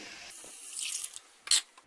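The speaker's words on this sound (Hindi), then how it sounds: "अब इसमें पानी डाल देंगे" Water poured into a pan of vegetables cooking for hot and sour soup gives a soft, steady splashing pour that swells midway, then a brief louder splash near the end, with no talking.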